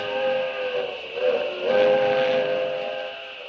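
Old-time radio sound effect of a steam train chugging along a railway with a long whistle, a steady sustained tone with hiss over a low rolling rumble, fairly loud and alone without talk.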